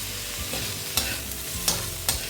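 Onion and tomato for paneer bhurji sizzle in a hot pan, with three or four sharp spoon scrapes from close by over a constant frying hiss.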